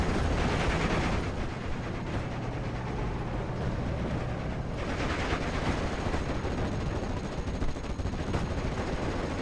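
Anti-tank guns and tank cannons, including a Panzer IV, fire in a World War II battle in the game Steel Division: Normandy 44. The loud, dense din of gunfire and rumble runs continuously, with heavier bursts near the start and middle.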